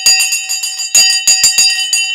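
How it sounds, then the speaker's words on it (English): A stock market closing bell rings loud and close in rapid repeated strikes, its steady metallic tone running continuously with no voices. "The bell has now gone,"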